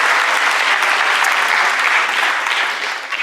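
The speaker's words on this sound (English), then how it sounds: "Let's give applause" Loud, dense applause from an audience at an entrepreneurship keynote event, steady and close for the whole stretch before tapering slightly at the end.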